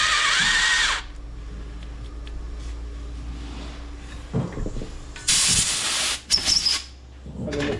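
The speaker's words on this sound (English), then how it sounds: "I'm just going to put a nice little chamfer on it" A drill-driven chamfer cutter working a freshly drilled hole in a BMW R80RT motorcycle cylinder head, heard as a few bursts of whirring and scraping with hissy noise between them in a workshop.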